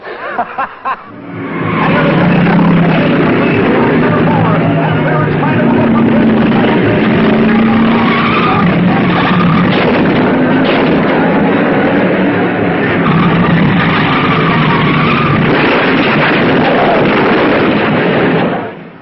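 Race cars racing and skidding in a fast qualifying heat race of six laps: a loud, sustained roar of engines that rises quickly and holds for many seconds before cutting off.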